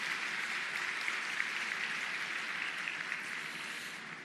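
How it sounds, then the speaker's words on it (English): Audience applause for event sponsors at a county State of the County address, a steady dense wash of clapping from a large crowd, sustained and fairly loud throughout without talk. "Would you please all give a round of applause for all of our sponsors here today?"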